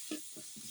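Ground onion and garlic paste with turmeric, chili powder and salt go into a hot pan, giving a brief, faint fry and sizzle with a few soft stirring scrapes.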